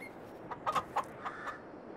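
Chickens in the video game Farming Simulator 22 cluck in a short, quiet burst of a few soft, close calls over a faint background hiss.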